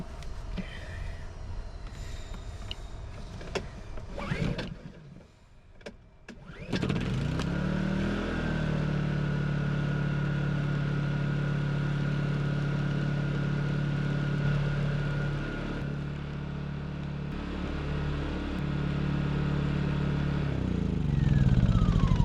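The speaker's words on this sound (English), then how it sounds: "So let me get it started." An RV's portable generator clatters through a start attempt, then catches and settles into a loud, steady running drone close by that lasts to the end, with no talking.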